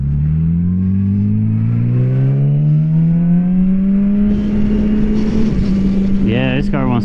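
A car engine revs up through a long, rising drone while driving, holding a strong steady pitch before a brief shift near the end, close and loud with no talk over it.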